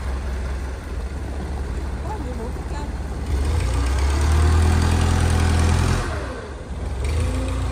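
A boat engine idles steadily on a river, a low continuous rumble that swells louder through the middle before easing back, with people talking over it.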